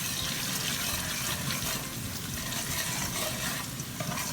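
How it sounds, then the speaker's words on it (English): Curry powder and salt being stirred into a turkey stew frying in a pot: a steady, dense sizzle with a soft, continuous stirring rustle, close and fairly loud, with no voices. "I'm adding a little bit of curry, and I'm going to stir it around."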